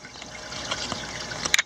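Water trickles from a raised bucket into an aquarium tank through a siphon tube, a soft continuous gurgling flow with a few brighter splashy drips near the end.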